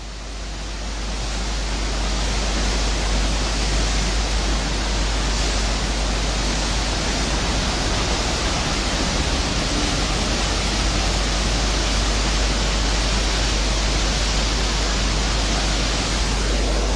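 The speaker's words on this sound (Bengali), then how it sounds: "হু হু করে জল বেরিয়ে যাচ্ছে" Floodwater roars out of the Mahananda barrage on the swollen Teesta river, a loud, steady, unbroken rush of churning water with no voices.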